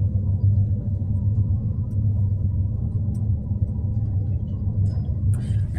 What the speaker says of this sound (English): Here comes the elevators, the Grand Hyatt in Denver, Colorado.